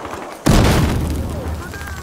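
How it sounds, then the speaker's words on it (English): Grenade blast in Battlefield Hardline: a sudden loud booming explosion that cuts in abruptly and leaves a long rumbling, ringing tail. "Oh god, that grenade."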